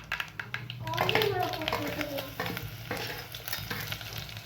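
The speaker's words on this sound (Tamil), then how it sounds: "நல்லா கடுகு பொறி விட்டுட்டு காஞ்ச மிளகாய் போட்டுக்கலாம்." Mustard seeds and dried red chillies sputter and sizzle in hot oil for a Tamil-style spinach tempering, a steady close frying crackle with scattered pops and stirring scrapes, while a voice speaks over it.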